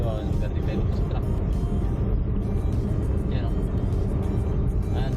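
Car on a multi-lane airport road overtaking a truck, steady low engine and road rumble running throughout, with a person talking over it.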